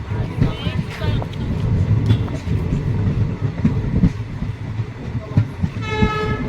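Kanchankanya Express passenger train on the Alipurduar–Sealdah route rolling along the rails, a steady close rumble and rattle of carriages with a brief horn-like tone near the end; voices seem to murmur underneath.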